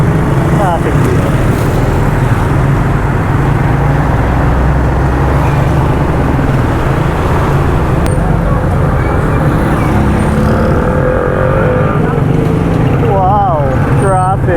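Heavy, continuous roar of street traffic in Urdaneta on a busy Saturday, with cars, trucks and tricycles rumbling close by and a steady low drone throughout; a few brief higher engine whines near the end.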